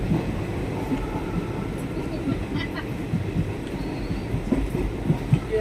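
A train runs along the tracks with a steady low rumble and faint rhythmic rattling of the carriages, heard from inside while people talk quietly.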